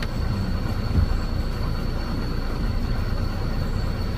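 Steady, heavy rumble of a moving train from Thrissur, Kerala, continuous and unchanging, with a faint high whine above and no voices.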